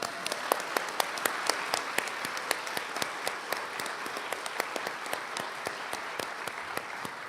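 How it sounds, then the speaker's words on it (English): An audience claps steadily, with distinct loud hand claps punctuating a fairly dense round of applause. "please give a round of applause"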